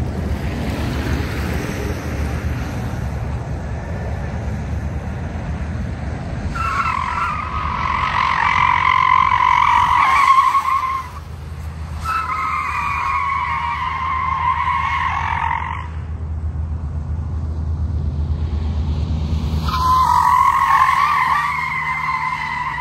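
A 2024 Ford Mustang Mach-E GT electric car heard from outside as it tries to break traction, with bursts of tire squeal separated by pauses over a low rumble, fairly loud and close, with no talk.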